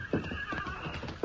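Horses in a western radio drama clip-clop and whinny close by, short neighs breaking out near the start and end over restless hoof sounds, with no talk.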